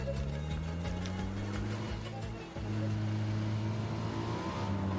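A car driven in the video game PUBG gives a steady, droning engine hum that shifts in pitch as it speeds up and eases off, with a short dip partway through.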